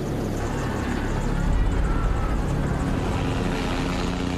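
A RAB helicopter flying during clashes with students, its steady broad rotor and engine roar loud and continuous throughout, swelling slightly midway.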